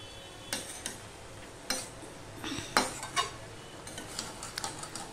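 A spoon stirs vegetable and prawn curry seasoned with salt and turmeric in a pan over low to medium heat, giving several scraping clinks against the metal over a soft sizzle, with no talking.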